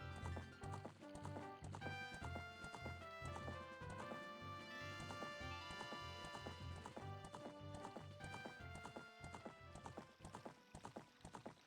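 A horse gallops with fast, rhythmic clip-clop hoofbeats in the video game Ocarina of Time, heard over a busy, steady game soundtrack with no talking.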